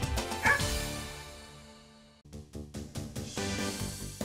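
Large Karakachan guard dogs bark in repeated bursts at a rural horse base, loud and fairly close, with a pause partway through before the barking resumes.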